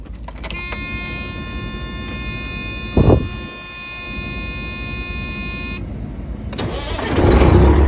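Car engine with a broken alternator cranking briefly and then catching, a short burst of starter noise followed by the engine running and revving louder at the end, with no talk.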